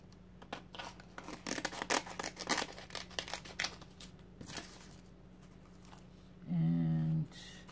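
Scissors snip repeatedly in quick irregular bursts, then a short electronic buzz or whir sounds near the end; no talking.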